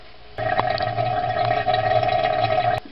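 Water from a leaking toilet flapper trickles steadily into the bowl, a close, continuous running hiss with a faint tonal ring, starting abruptly and stopping near the end.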